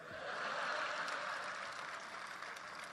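Audience applause at a Hindi kavi sammelan poetry evening in Ahmedabad, a soft, even patter of many hands clapping, fairly distant and steady for a few seconds.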